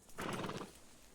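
A horse whinnies briefly and quietly in the Red Dead video game, a short neigh with faint hoof clops and no talk.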